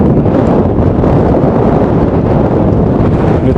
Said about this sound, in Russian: Ветрюга очень сильный.